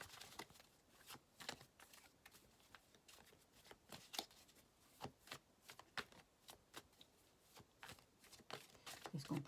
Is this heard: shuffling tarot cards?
yes